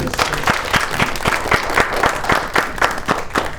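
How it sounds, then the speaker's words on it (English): A crowd applauds steadily, dense clapping filling the space at a loud, even level throughout. "A round of applause for Brito."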